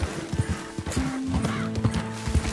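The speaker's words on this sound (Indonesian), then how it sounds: "Kasihan nih kuda dipaksa." A horse in Red Dead Redemption 2 gallops hard while being pushed, close rhythmic hoofbeats with a whinny partway through, heard without talk.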